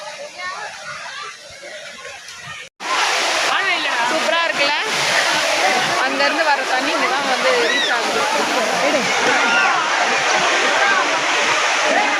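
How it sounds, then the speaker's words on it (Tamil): Rushing water roars steadily from Upalamedu Falls nearby, with splashing and distant voices of people playing mixed into the constant wash. "ஃபால்ஸ்லேருந்து தண்ணி வருது."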